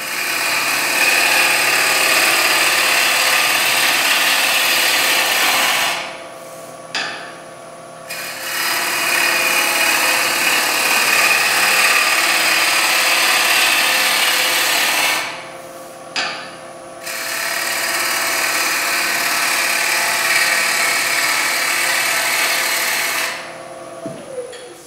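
A purpleheart bowl spins on a wood lathe while a tool cuts it, giving a steady high whirring hiss. The sound runs in three long passes separated by short pauses, loud and close.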